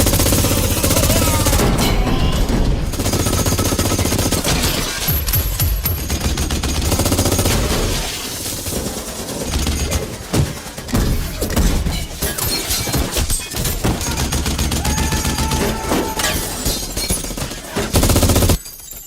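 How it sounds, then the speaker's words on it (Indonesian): Gunfire in a shootout from an Indian action film, with rapid bursts and shots rattling loudly and continuously, mixed with crashing, shattering impacts and dense soundtrack noise. "Dan bersama Napoleon, Dili menembak semua anak buah Amar ke segala penjuru yang mengakibatkan mereka lari berhamburan keluar kantor polisi."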